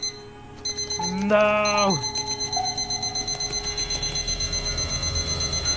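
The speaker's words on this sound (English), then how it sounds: "No, I don't want to stay for the alarm." In a video game, an alarm clock rings with a steady high-pitched, pulsing tone that keeps going through the clip. Near the start a person lets out a loud, drawn-out cry over it.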